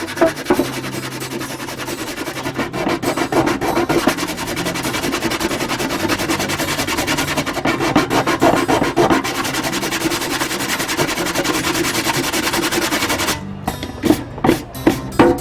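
Steady hand sanding of a metal pot scrapes back and forth across its hard surface, continuous rasping strokes up close, ending in a few short, separate rubs.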